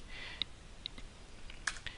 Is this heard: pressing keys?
yes